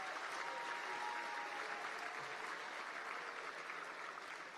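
An audience applauding at a sports awards ceremony in Arizona, sustained dense clapping from a large crowd filling the room evenly and fading only slightly at the end.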